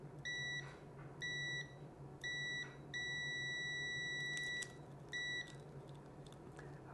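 Uni-T UT139S multimeter gives its continuity test beep, a shrill electronic tone sounding in several short and longer bursts over a steady low hum, close and clear.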